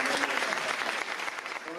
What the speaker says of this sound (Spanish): Vamos a dedicarles un fuerte aplauso